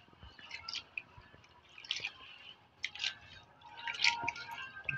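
Soft wet squishing and dripping as coconut milk (gata) is stirred in a pot for laing, faint and close with irregular sloshes and small liquid splashes.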